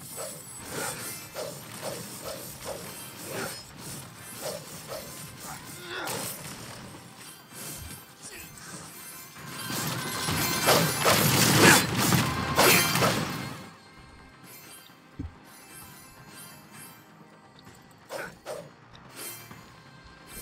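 Object smashed in the video game Ascenders: mechanical clicks and creaks build into a loud crashing burst lasting a few seconds, then fade to sparse clicks.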